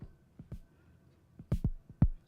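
Beats from an Arturia DrumBrute Impact drum machine: a sparse run of soft, low kick-like thumps with irregular spacing, faint and close, with no voices over them.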